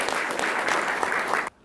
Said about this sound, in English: Warm round of applause for our first speaker,